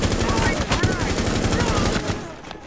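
Rapid automatic gunfire in the video game Rainbow Six Siege, a dense continuous burst of loud shots, close and sustained for over two seconds before tapering off.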